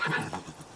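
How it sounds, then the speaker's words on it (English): A horse gives a short, close neigh in The Witcher 3, a brief breathy whinny lasting under a second. "Whoa there, Roach."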